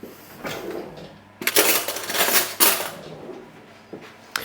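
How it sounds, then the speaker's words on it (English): A spoon scooping hot roasted butternut squash flesh into a mixing bowl: close scrapes and soft clanks of metal against the skin and bowl in a few bursts, loud and alone, with a sharp clink near the end. "we're going to scoop out the flesh. So we'll just use a spoon again."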